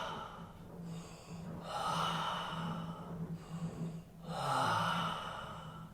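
Slow, deep breaths during a bioenergetics exercise with the head falling back, each long inhale and exhale heard close and audible, with gasping, sighing breaths repeating in a steady cycle and no talk.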